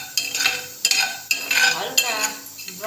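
Cumin and other whole spices being stirred and dry-fried in a pan, with repeated metallic scrapes and clinks of a utensil against the pan at a steady, uneven rhythm, close and fairly loud.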